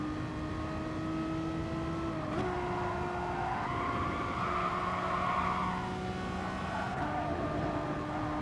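A race car's engine revs steadily in Gran Turismo Sport on PS5, with sustained tonal engine whine, gear shifts stepping the pitch, and a faint tire squeal in the middle.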